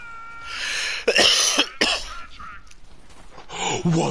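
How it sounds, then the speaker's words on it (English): A person coughs several times in short, harsh bursts close up, with a brief throat-clear among them and quieter background noise between the coughs. "Excuse me, coughing."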